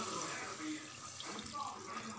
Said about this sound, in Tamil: கொஞ்சமாக தண்ணி ஊற்றிக்கிறேங்க.